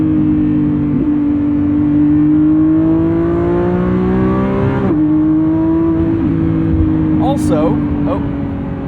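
A 2025 Lamborghini Revuelto's V12 engine pulls at quarter throttle through its 8-speed dual-clutch gearbox, a loud, steady drone heard from inside the car that climbs gradually in pitch, with a brief dip near the middle as the gear changes.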